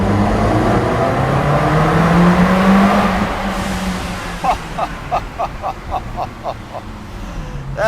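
A Ferrari 360 revs hard inside a tunnel under construction, a loud sustained engine roar with rising pitch that echoes off the walls, then a quick string of sharp rev blips.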